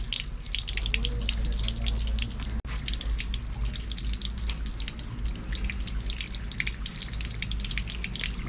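Holy water running from a fountain extension on a street in Havana, a continuous soft splashing and dripping trickle, faint and steady throughout.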